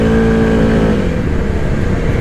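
The engine of a 2023 Arctic Cat Mudpro 600 ATV revving in mud, a loud, close, steady roar that drops into rougher chugging after about a second.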